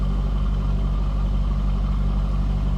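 A 2004 Chevrolet Corvette convertible with a stock, unmodified exhaust idles at the rear, giving a steady, loud, low engine rumble with no revving and no talk.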